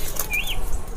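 A pigeon imported from Pakistan beats its wings in one short flutter, soft and close, with a faint chirp above a steady low background hum.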